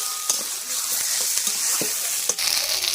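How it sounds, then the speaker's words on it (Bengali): Garlic, black cumin and ghetkol leaf paste fry in hot oil with a loud, close, steady sizzle, broken by several sharp scraping stirs of a spatula in the pan. "রসুন আর কালো জিরে কিন্তু ভাজা হয়ে গেছে, এবার পাতা বাটাটা দিয়ে দেব।"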